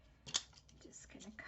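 A single quick snip of scissors cutting a small piece of score tape, close and quiet, followed by faint soft handling sounds.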